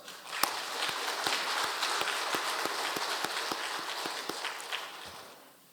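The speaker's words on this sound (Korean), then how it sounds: "다시 영광의 박수" A church congregation at a Christmas Sunday service claps in a lively, steady rhythm, the crisp beats rising quickly and then slowly thinning out near the end.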